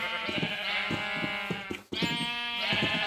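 Several bleats from Minecraft sheep in a wool-colored sheep game, repeated close and loud across a few seconds with a short break midway, with no speech.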